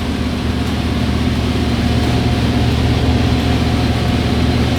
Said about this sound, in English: You can hear the engine loading up a little bit as we put all that weight on board our boat.